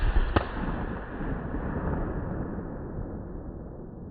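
A Troy 12 gauge shotgun fires a single slug outdoors at a range, a sharp close blast followed by a long decaying echo and rumble with no voices.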